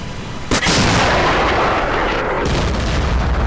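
In the Cold War tactical wargame Combat Mission: Cold War, a weapon fires a shot at a target 160 meters away: one loud, close blast that rolls into a long, heavy rumbling roar with no talking.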